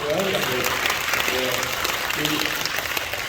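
A church congregation claps in welcome for visitors during an anniversary worship service, steady applause filling the room with scattered voices beneath it.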